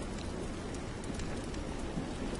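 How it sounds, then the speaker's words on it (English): Heavy rain falling in the video game Lords of the Fallen, a steady, dense hiss of downpour that stays even and continuous throughout, with no voices over it. "The way it rained, you can fill a cup of water in 2 to 3 seconds."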